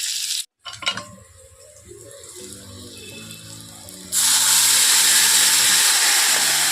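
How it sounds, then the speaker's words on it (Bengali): Young mango fried with dry red chilli, five-spice, salt and turmeric: a few utensil clinks and stirring scrapes, then a sudden steady burst of loud frying sizzle for the final seconds. "এই দেখো শুকনো লঙ্কা আর 5 ফোড়ন দিয়ে আমটাকে একটু নুন হলুদ দিয়ে ভেজে নেবো"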